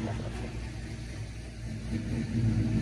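A turbocharged Chevrolet S10 pickup engine runs steadily nearby, a continuous low mechanical drone that swells slightly louder toward the end.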